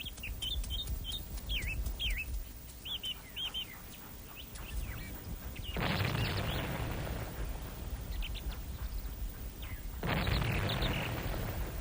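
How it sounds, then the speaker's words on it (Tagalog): Two deep, booming cannon blasts roll out several seconds apart, each followed by a long rumble, while small birds chirp in the background. "Yun ba yung kanyon?"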